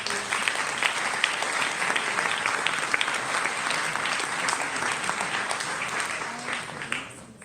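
A conference audience at the New Harvest 2019 morning session applauds a speaker, with even, sustained clapping from a large room that tapers off at the very end.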